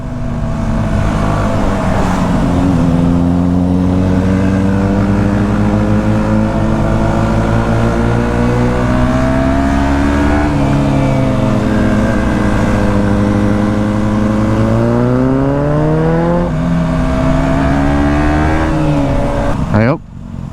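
A KTM 125 Duke motorcycle ridden around Haworth in Yorkshire, its engine droning loud and close throughout with rising and falling revs, cutting out near the end.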